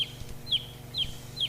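A chicken repeats short, high calls at near-even intervals, four in all, close by against a low background hum.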